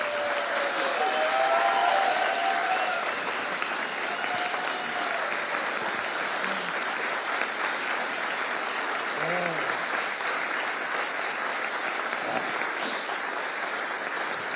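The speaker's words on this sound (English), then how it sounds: "would you all give her a big time round of applause?" Audience at a chamber of commerce annual meeting breakfast gives sustained, dense applause, loud and even throughout, with brief voices rising faintly beneath it.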